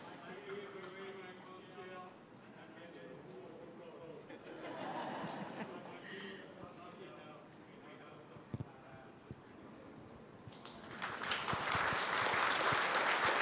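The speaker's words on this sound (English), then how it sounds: "And some applause there from the attendees." Attendees at a National Heroes Day ceremony on the Sister Islands applaud after a conch is blown, a steady round of clapping mixed with crowd chatter that swells louder near the end.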